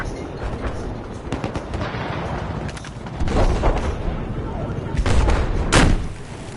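Enemy machine gun fire in the Battlefield 4 video game plays as a dense, rattling stream of shots that swells into louder, booming bursts near the end, with voices talking over it.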